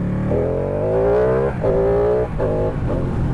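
A Ducati Panigale 899 sport motorcycle engine revs up in several rising bursts with brief drops between them, loud and close, with no voices.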